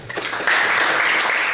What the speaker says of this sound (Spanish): Un aplauso para el invitado.